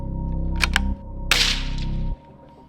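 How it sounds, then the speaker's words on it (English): Suppressed rifle shots crack sharply, two quick reports close together and then a third, each over a droning background hum and followed by brief odd ringing. "It's like making weird noises going through this suppressor."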